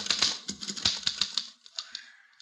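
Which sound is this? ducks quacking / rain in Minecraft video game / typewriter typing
typewriter typing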